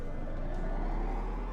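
A military truck engine in the game ARMA: Cold War Assault hums at a steady, continuous idle, a low rumble that holds even throughout without revving up or down.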